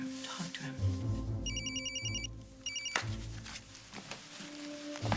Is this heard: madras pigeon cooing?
no